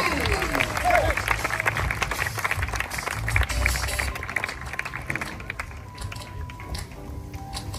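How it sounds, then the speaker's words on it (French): An outdoor crowd at a Walibi Rhône-Alpes park show claps for the high divers, a steady mass of applause with an announcer's voice over it, thinning toward the end. "je vous demanderai une salve d'applaudissements pour les plongeurs de haut vol du parc"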